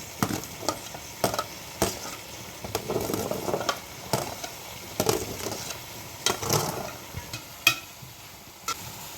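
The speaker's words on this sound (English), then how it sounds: "I will let it fry now nicely." Carrots and mutton stew frying in a pot: a soft, continuous sizzle under repeated scraping stirs, with irregular metallic taps of a spoon against the pot.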